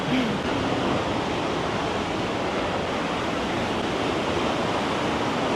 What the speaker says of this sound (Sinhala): අන්න අපිට හම් වෙනවා දිය ඇල්ල